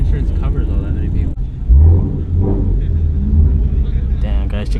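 At a car show, a loud engine rumbles and revs nearby in a low, throaty surge, with people talking over it.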